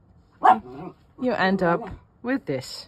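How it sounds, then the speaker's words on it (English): A dog barks and yips a few times in the background of an indoor craft session, short sharp sounds mixed in with a person talking close by. "And that's my dog in the background."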